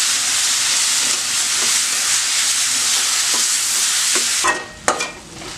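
Onions and tomatoes for a chicken gravy sizzle loudly in hot oil in a pan, a dense hiss broken by a few scraping stirs near the end.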